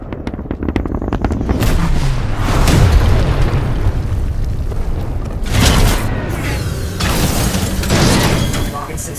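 A Titan drops from the sky and slams down in Titanfall 2, heavy booming impacts and rumbling mechanical crashes over dense game noise and gunfire, loud and close, with voices in the mix.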